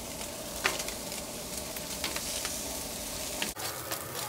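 Corn tortillas fry in oil on a Blackstone griddle with a loud, continuous close sizzle, broken by a few faint scrapes and light taps and no talk.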